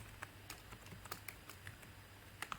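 Quiet, irregular taps on a computer keyboard as Rust code is typed, the soft keystrokes coming in short scattered bursts with brief pauses.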